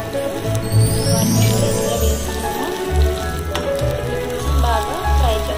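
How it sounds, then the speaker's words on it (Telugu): Chopped ginger fries in hot oil in a pan for beetroot upma, a close, continuous sizzle with some stirring scrapes and clinks. "ఇలా మనకి కొంచెం లైట్ బ్రౌన్ కలర్ లాగా ఫ్రై అయ్యాయి కదండి"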